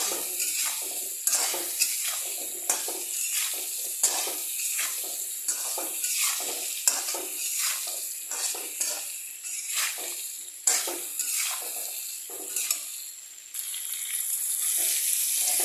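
Spices with cumin powder sautéing in a pan, with a bright crackling sizzle and repeated scraping strokes of a spatula in a steady stirring rhythm, close and continuous throughout.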